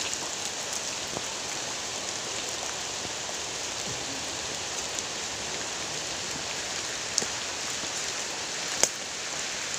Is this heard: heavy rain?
yes